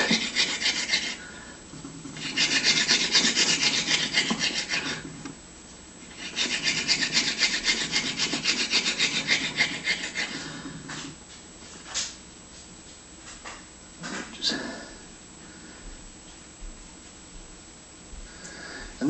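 Friction fire drilling with a mullein stalk spindle on a willow wood board: rapid rhythmic rasping and grinding in two long sustained bursts, then quieter scattered scrapes, close and loud, without speech.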